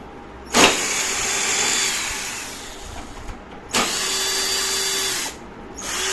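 A cordless drill whirs in two short bursts, loosening and backing out small screws, each run starting with a sharp kick and ending abruptly, close up with no talk.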